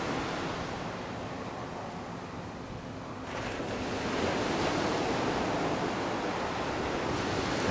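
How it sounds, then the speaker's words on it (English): A gentle west wind rushes outdoors as a broad, steady roar that swells slightly partway through, sounding like wind noise buffeting the microphone, with no talk. "gentle breeze coming out of the west"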